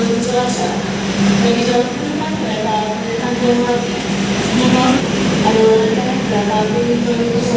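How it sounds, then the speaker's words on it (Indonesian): Pandanwangi local train at Jember station, a steady rumbling drone of rail engines and carriages with the bustle of a busy platform, while people talk nearby. "Ini kereta Pandanwangi, kereta lokal."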